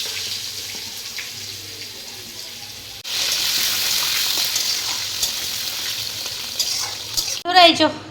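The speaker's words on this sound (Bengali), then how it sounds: "খিচুড়িতে জল ঢেলে দিয়েছি" Water is poured into khichuri cooking with three kinds of dal. A low sizzle comes first, then a louder rushing, bubbling hiss once the water goes in, with a few stirring scrapes and clinks close by near the end.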